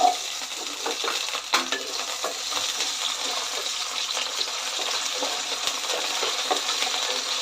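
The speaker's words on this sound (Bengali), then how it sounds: "তেল গরম হয়ে গেছে আলুটা দিয়ে দিচ্ছি আমি" Potatoes dropped into hot oil in a pan for jackfruit biryani set off a steady, bright frying hiss that holds for several seconds, with a few clinks from the pan and no talking.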